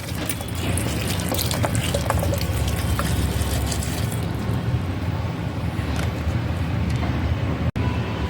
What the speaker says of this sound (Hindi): इसमें थोड़ा पानी डाल देती हूँ ताकि अच्छे से सब भीग जाएगा।